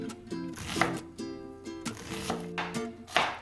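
Knife chopping vegetables such as carrots and garlic on a cutting board while prepping a crockpot turkey or chicken rice soup, with repeated taps under steady background music.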